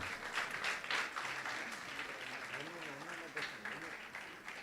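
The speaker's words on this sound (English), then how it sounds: "Good round of applause." Audience applause at a World Tuberculosis Day ceremony at the Governor's house, a steady wash of clapping from a crowd with a voice speaking over it throughout.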